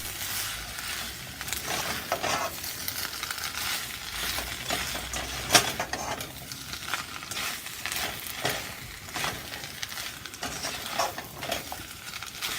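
Cooked spaghetti noodles are tossed and fried in soy sauce in a hot pan for a chicken spaghetti dish, giving a steady close sizzle broken by repeated scraping stirs, with no talking.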